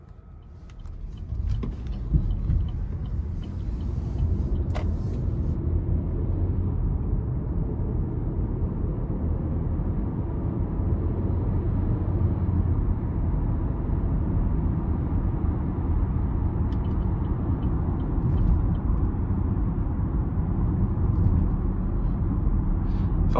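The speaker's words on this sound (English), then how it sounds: "take this 2023 Equinox RS out on the road for a quick test drive" A 2023 Chevrolet Equinox RS with a 1.5-liter engine drives on the road, giving a steady, close cabin rumble of engine and road noise that stays even throughout with no talking.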